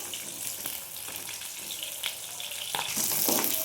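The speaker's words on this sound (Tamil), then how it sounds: "வெங்காயம் நல்லா ஒரு கண்ணாடி பதம் வர வரைக்கும் நல்லா வதக்கிக்கலாம்." Onions sauté softly in oil in a pan with faint stirring clatter, and the crackle grows brighter and louder toward the end.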